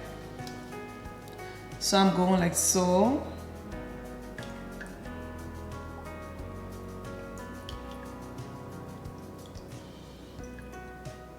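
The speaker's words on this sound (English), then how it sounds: "I'm gonna pour my lye right in here" Lye is poured into a cold-process soap mixture, a soft continuous trickle of liquid running steadily in the background, with a person speaking briefly early on.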